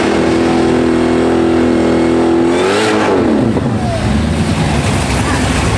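Drag race car at TX2K, a loud engine droning steadily at high revs, then dipping and sweeping through a launch as the roar shifts and rumbles on, heavy and continuous with crowd noise behind, and a voice talking underneath.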